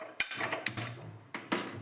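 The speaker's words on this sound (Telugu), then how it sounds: "స్టవ్ పైన ప్యాన్ పెట్టుకొని" Several sharp metallic clanks as a pan is set onto a kitchen stove while cooking egg fried rice, four distinct knocks spaced unevenly with a short ringing tail, close and fairly quiet.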